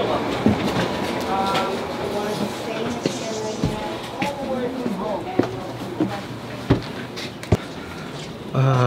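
Train carriage rumble and clatter at close range, with people talking over it and occasional sharp clicks and bumps.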